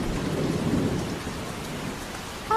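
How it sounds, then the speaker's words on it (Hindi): Heavy rain pours steadily in a dense, continuous wash of noise, with a low rumble underneath, close and loud throughout. "वैसे भी बारिश बहुत तेज हो रही है"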